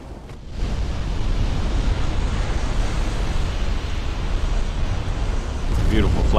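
A warship turret exploding during a destroyer battle in Ultimate Admiral: Dreadnoughts. A loud, sustained roar rises after a brief lull and holds steady like a rushing blast or surf, with a voice audible beneath.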